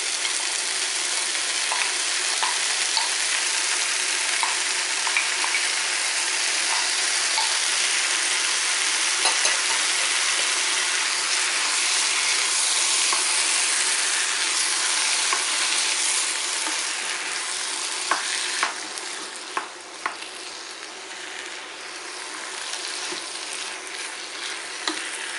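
Tomato sauce for a tuna msemen filling sizzles and bubbles steadily in a pan, a continuous close frying hiss with small pops and occasional stirring clatter toward the end, no voices.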